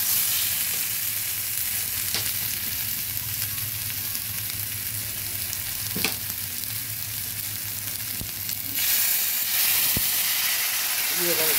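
Ground spices fry in hot oil for a Katla fish curry with potatoes, a steady close sizzle and hiss broken by occasional stirring clicks and scrapes, rising slightly louder near the end.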